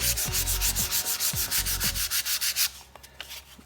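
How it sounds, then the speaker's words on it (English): Hand sanding of wooden box pieces with 220-grit sandpaper, a run of about fifteen quick rhythmic scratchy strokes close up, then a few lighter scattered rubs trailing off. "then you want to go to the 120, the finer sandpaper, and then you can shift down finally to the 220 and sand"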